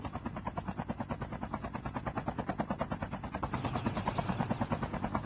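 Rapid rhythmic rotor thumping from a helicopter in Call of Duty: Mobile battle royale, loud and close, with the whine brightening as it nears partway through.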